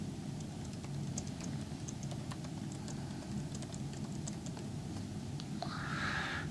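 Soft, rapid key clicks from typing on a Razer Blade Pro 17 (2021) laptop keyboard, faint and close, a quick irregular patter that runs throughout.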